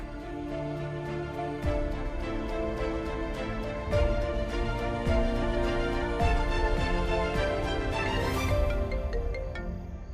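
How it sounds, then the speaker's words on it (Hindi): A melodic phone ringtone plays continuously, layered tones repeating steadily at moderate volume with no voices. "इतनी रात गई, किसका कॉल आ रहा है?"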